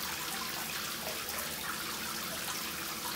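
Shower water running steadily for Pekin ducklings' bath, a continuous broadband hiss and patter of spray, even and fairly soft, with no voices.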